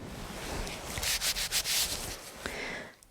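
Grease being rubbed into a mechanical joint, a close, steady dry rubbing and scraping with a brief burst of quicker strokes in the middle.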